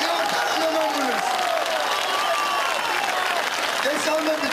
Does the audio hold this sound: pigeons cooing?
no